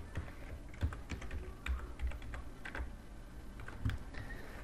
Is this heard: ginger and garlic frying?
no